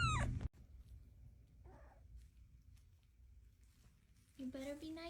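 A mother cat calling her kitten, two clear meows, one brief at the start and a longer one near the end, separated by quiet stretches with a faint soft sound in between.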